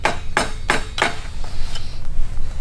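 A hammer taps the metal carburetor of a cheap two-stroke pit bike four times in a quick even rhythm, sharp and close, followed by quieter fainter knocks.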